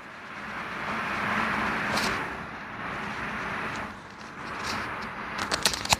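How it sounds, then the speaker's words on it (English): Road traffic passing outside seeps in through the seams of a balcony sliding door as a faint, broad wash of rolling noise that swells and fades, with a few small clicks near the end. "that's where you can hear the sound of the traffic passing through"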